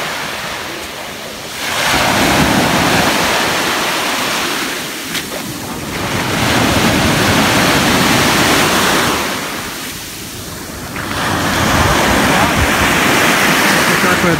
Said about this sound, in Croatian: Evo nas na plaži, dakle smjestili smo se ovdje.